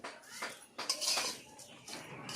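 Semai being stirred with sugar in a metal pot, a spoon scraping and clinking against the sides in a few uneven bursts, close and fairly quiet with no talk.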